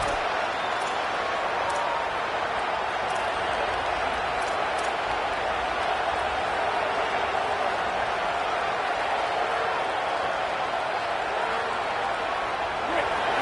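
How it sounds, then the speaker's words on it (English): Football stadium crowd roaring steadily during a college game, a dense continuous wash of cheering noise with no distinct breaks, loud and sustained throughout. "The roar of the crowd trying to fuel this defense to keep them pinned in their own end."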